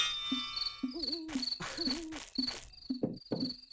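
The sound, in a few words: crickets chirping loudly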